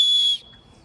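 A backpack's built-in safety whistle gives one short, shrill, steady blast that cuts off sharply, leaving near silence.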